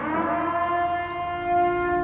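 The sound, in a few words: siren wailing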